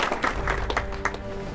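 Applause from an assembled crowd at a peacekeeping unit's farewell gathering, dense irregular clapping that stays loud and fairly close for the whole stretch.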